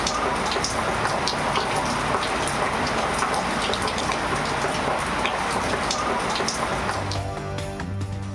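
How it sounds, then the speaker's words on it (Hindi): Heavy monsoon rain pours down in a steady, loud, close hiss of drops on hard surfaces, with a faint tonal sound entering near the end. "लाहौर समेत पंजाब के मुख्तलिफ इलाकों में मूसलाधार बारिश।"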